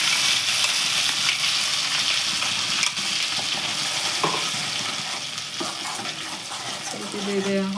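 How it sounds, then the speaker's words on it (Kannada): Chicken masala frying in oil and butter in a home kitchen pan, a steady crackling sizzle with occasional stirring scrapes, close and continuous with a voice talking over it. "ಸ್ವಲ್ಪ ಇದೆ ಆಯಿಲಲ್ಲಿ ಬೆಣ್ಣೆಯಲ್ಲಿ ಚೆನ್ನಾಗಿ ಫ್ರೈ ಆಗಬೇಕಿದು."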